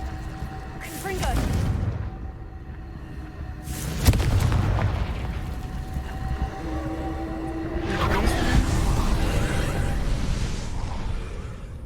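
Confringo blast spells going off in Hogwarts Legacy, three deep booming explosions with whooshing tails spaced a few seconds apart, loud and close over a low game background rumble.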